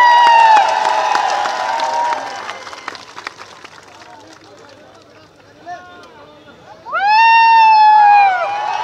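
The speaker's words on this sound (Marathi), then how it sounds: "याचा टाळ्या वाजून स्वागत करा." Crowd at a political rally cheering and clapping after a speaker's call, a loud burst of claps and shouts that fades, then amplified speech resumes at the end.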